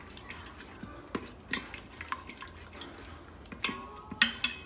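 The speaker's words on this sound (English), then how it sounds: "We're gonna go ahead and mix that really well." Red pepper flakes and other ingredients for shrimp Alfredo are stirred in a pan, with scattered scraping and light clinks of a utensil against the metal, close and fairly quiet.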